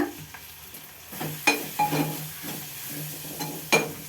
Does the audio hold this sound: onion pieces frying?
yes